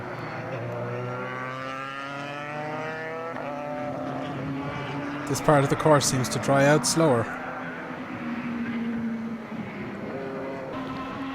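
Formula BOSS race cars, including an F3 car, sweep past on a drying track straight in an Irish race, engines building to a loud, rising pass near the middle, with steady commentary talk throughout.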